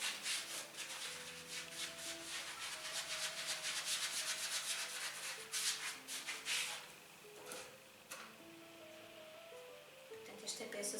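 Dry sponge rubbed over painted wood to give it an aged shabby chic look, making steady dry scrubbing strokes close by under faint background music.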